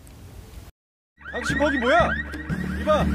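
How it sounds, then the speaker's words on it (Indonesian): A car alarm in a scene from the Korean heist drama Money Heist Korea: warbling, sweeping electronic tones start after a brief silence and keep blaring loudly. "Profesor mengelabui polisi dengan membunyikan alarm mobilnya"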